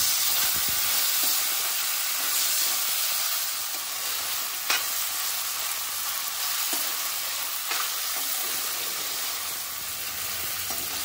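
Tomatoes frying and being stirred in a pan for dal tadka, added over onions, give a steady close sizzle with occasional scrapes of the spoon, and no one speaks.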